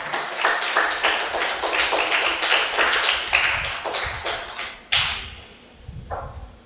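A church congregation claps together in quick, rhythmic bursts, with steady hand claps filling the room for several seconds before tapering off into a few scattered claps.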